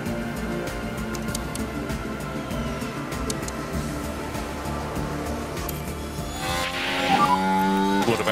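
Race car in F1 Manager 24 weaving to warm its tires: layered engine tones and tire noise run continuously, then a brighter rising engine whine and squeal swell near the end, no voices.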